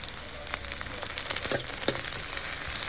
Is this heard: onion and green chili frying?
yes